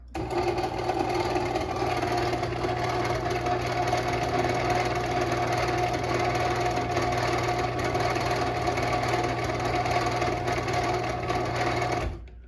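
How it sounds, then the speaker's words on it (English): A Moore-O-Matic Ultra Lift 750-S garage door opener runs continuously with a steady motor hum and drone that holds even and loud throughout, then cuts off right at the end. "it's not the quietest opener, but it definitely is quieter than some I've heard"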